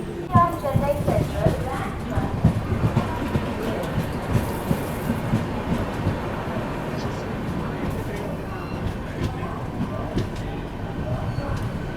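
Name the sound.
Humsafar Express train moving again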